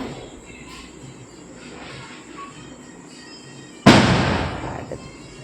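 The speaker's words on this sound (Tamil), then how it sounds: "வெளியே பட்டாசு போடுறாங்களா?" A firecracker bursts outside a home, one sharp loud crack whose noisy tail fades over about a second, following a quieter stretch of faint background noise.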